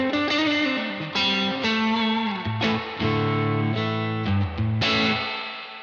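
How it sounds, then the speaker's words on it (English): Electric guitar played through a Universal Audio Dream '65 reverb amp pedal, sustained chords and single notes ringing out with a smooth, lush reverb tail, loud and alone with no voices. "That is really getting this dreamy reverb, and it's buttersmooth."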